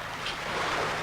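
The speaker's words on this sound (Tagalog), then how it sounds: "Kusog-kusog na ba ang bawod? Hangin manggod." Strong sea waves roll and surge under gusting wind, a broad, steady wash of surf and wind noise, moderately loud and continuous with no voices.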